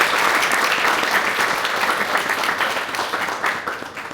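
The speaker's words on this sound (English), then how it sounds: "I think we should all thank our panel with a round of applause" An audience applauds a poetry panel at a prize evening, a steady, dense round of clapping from many hands that holds loud throughout and tapers only slightly toward the end.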